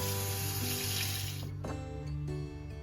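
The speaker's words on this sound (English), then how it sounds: "I'm gonna rinse this off with some tap water" Tap water running steadily into a sink while equipment is rinsed after a pH check during hot sauce making, a constant close hiss that fills the whole stretch with no talk.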